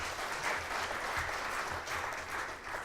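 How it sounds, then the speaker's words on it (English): A round of applause at a research summit, fairly quiet and steady, a dense patter of many hands clapping throughout with gentle swells. "A round of applause for the scientific committee."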